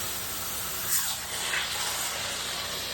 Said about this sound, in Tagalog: Spray muna tayo ng Sunrox sa kulungan.